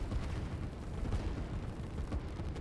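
Continuous low rumbling booms and distant blasts of artillery fire in a real-time strategy video game battle, a dense steady wash of explosions with no clear gaps.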